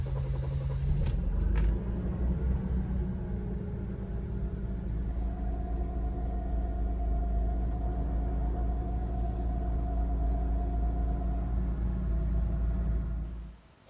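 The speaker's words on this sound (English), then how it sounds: "Time for a test drive." Interior road noise from a Mercedes W124 on a test drive: a steady low engine and tyre rumble throughout, close and constant, with a faint whine building partway and a few light knocks.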